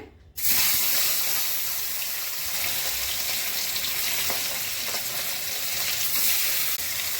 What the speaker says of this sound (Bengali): এটা আমি সর্ষের তেলে করব। মাছগুলো ভেজে নিচ্ছি।